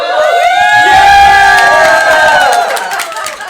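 A game show audience cheers and whoops for a contestant, a loud, dense crowd roar with children's shouts that holds steady for about three seconds, then eases off slightly.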